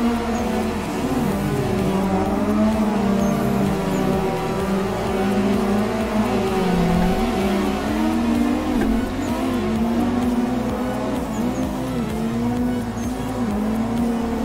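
A drift car at New Nikko Circuit drones loud and steady, its engine revving and warbling through continuous throttle changes, heard close from inside the car.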